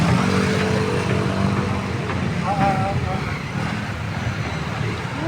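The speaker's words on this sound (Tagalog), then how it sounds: "Ka-traffic, oh." Steady road traffic of cars and motorcycles surrounds a busy street near a chocolate shop, a dense continuous rumble with passing engines, while people talk nearby over the noise.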